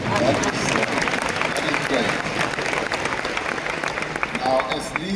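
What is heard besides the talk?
audience applauding at a keynote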